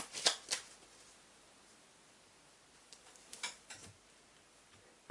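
A deck of Belline oracle cards is shuffled and cut close up, with two quick riffling bursts at the start and a few softer card taps and flicks near the end, quiet between.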